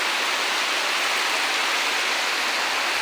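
Heavy monsoon rain falls on a green village in a dense, constant roar of hiss that stays level throughout, with no voices over it.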